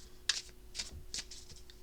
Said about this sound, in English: I have to shuffle and pull the cards from each the deck split in two